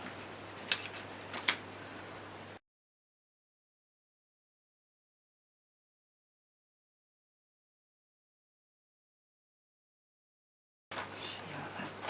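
Scissors snip through paper while a mini photo album is being made, two crisp cuts near the start, then a long dead-silent gap before soft paper rustling returns at the end.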